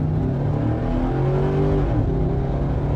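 A work truck's engine, tuned with an SCT X4 tuner, revs and pulls hard from inside the cab, a loud continuous drone with rising tones as it accelerates.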